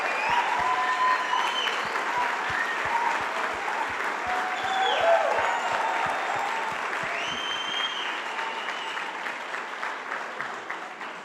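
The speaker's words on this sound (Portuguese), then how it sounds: "Uma salva de palmas para o Washington." Church congregation applauding, a dense sustained clapping from a crowd indoors, fairly loud and steady throughout, with faint voices and cheers mixed underneath.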